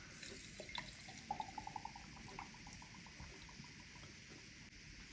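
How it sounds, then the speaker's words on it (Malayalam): Coconut oil is poured into a small container for a homemade hair oil. A faint, close trickle follows a few soft drips, then a thin, steady stream of liquid. "വെളിച്ചെണ്ണ ഒഴിച്ചു കൊടുക്കുകയാണ്."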